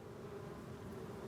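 Bees buzzing around one of the 350 hives kept in Paris, a steady, even drone with no breaks, faint and continuous throughout.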